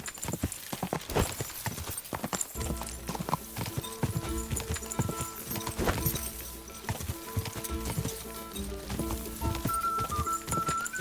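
Horse hooves clip-clop in quick rhythmic beats in the video game Kingdom Come: Deliverance II, with a whinny and music-like tones layered over the steady gallop.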